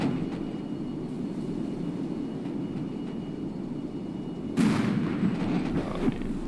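Mortar and gunfire in a military video game battle with Bradleys, steady low rumbling combat din with a louder burst of fire partway through, distant and muffled, no talk.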